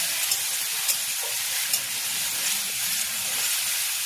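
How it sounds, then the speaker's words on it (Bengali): Dal lentils fry in a hot pan for a panta bhat khichuri, giving a continuous bright sizzle and hiss with faint stirring scrapes, close and steady throughout. "এবং ডালকে হলদি যতক্ষণ না পর্যন্ত হয় ততক্ষণ ভাজতে হবে।"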